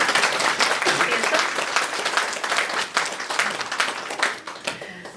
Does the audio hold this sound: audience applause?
yes